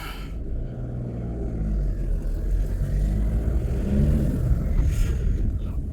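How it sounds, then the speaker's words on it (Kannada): A car engine hums and rumbles steadily as the vehicle drives along, a low continuous drone from inside, with no talking. "ನಾನೀಗ ಆಲ್ರೆಡಿ ರೆಡಿಯಾಗಿ ಗಾಡಿ ಮೂವ್ ಮಾಡ್ತಾ ಇದ್ದೀನಿ"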